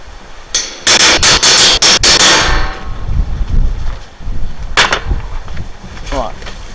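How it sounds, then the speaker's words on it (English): Sharp metallic hammer strikes drive a punch through material during a floor repair, a quick cluster of loud close impacts followed by scattered knocks and handling noise. "I'm just literally going to punch these holes by eye pretty much."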